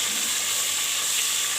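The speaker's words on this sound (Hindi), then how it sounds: "चिकन को डाल के अच्छे से भून लेना ऐसे" Chicken fries in a hot pan with a dense, constant sizzle and crackle that stays loud and close for the whole short stretch, with no talking.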